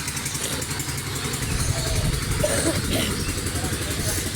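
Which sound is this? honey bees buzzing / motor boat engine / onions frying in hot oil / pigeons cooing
motor boat engine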